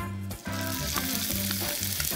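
Chopped onion hits hot olive oil in a frying pan, and a loud, dense sizzle starts after a short dip and crackles on close-up without letup.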